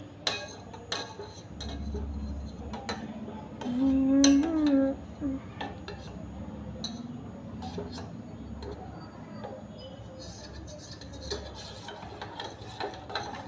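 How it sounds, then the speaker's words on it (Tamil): A spoon clinks and scrapes against a cup while hot chocolate mix is stirred into hot milk. The tapping comes in quiet, irregular ticks, with a brief louder hum partway through. "ஏன்னா வந்து ஹாட் மில்கில் போடுறதுனால கொஞ்சம் நல்லாவே வந்து மிக்ஸ் ஆகுது"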